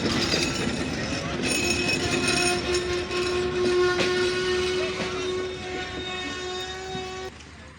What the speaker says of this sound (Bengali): এই ছিল 727 নিয়ে পার্বতীপুর জংশনে ইন করা